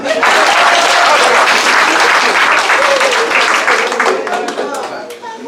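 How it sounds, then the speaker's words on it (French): A conference audience bursts into loud, dense applause for Asmara, steady clapping that tapers slightly toward the end while a voice speaks briefly over it. "Il faut applaudir Asmara."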